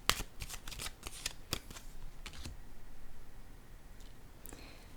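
Tarot cards are shuffled close up in quiet surroundings, a run of quick crisp riffles and taps clustered in the first few seconds, followed by a faint soft slide near the end.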